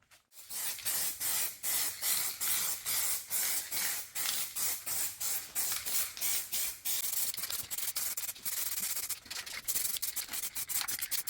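Red paint sprayed onto a Mercedes M111 engine top cover, heard as a steady, close hissing spray broken into many short bursts and pauses, with no talk.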